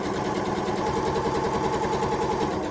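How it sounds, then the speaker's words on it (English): A sewing machine with a size 14 needle and Gutermann thread stitches needlecord corduroy fabric, a steady, close, rapid mechanical whirr that runs without a break. "this needle cord isn't sewing any differently to any other fabric"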